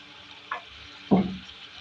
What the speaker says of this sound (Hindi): इसको डाल के फ्राई करेंगे, इसके साथ मिक्स करेंगे, भुनाई करेंगे इसकी।